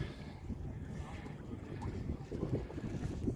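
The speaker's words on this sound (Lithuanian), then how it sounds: "čia galingas laivas" A sailing boat under way at sea in a light wind, towing a second boat; rushing water and wind buffeting fill the clip steadily, swelling slightly toward the end, with no voices.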